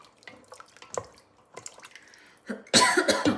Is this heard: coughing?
yes